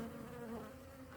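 A hybrid honeybee colony of black-bee lineage buzzing during a pre-winter hive inspection, with a steady, dense hum from many bees close to the microphone and no talk.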